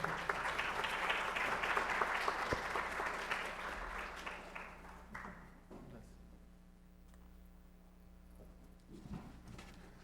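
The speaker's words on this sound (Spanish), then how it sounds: "Ahora quisiera unas palabras, unos aplausos para nuestro expositor, Carlos Vega Miranda" An audience at a Peruvian policy forum on APEC and the TPP applauds a speaker, strong and full for a few seconds, then thinning and dying away to leave a low room hum with a few scattered claps.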